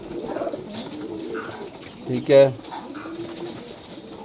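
Pigeons coo softly through a busy bird-market scene, with one louder, closer burst of cooing standing out midway while someone speaks briefly nearby.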